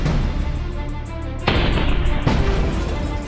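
Cannon fire in the video game Battle Nations, two heavy booming blasts landing in quick succession over a continuous loud game backdrop, each with an abrupt onset and sustained rumble.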